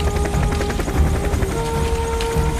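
A helicopter in an Indian film scene, carrying injured people away for treatment, thumps with loud, rapid rotor beats over a steady engine whine, close and continuous.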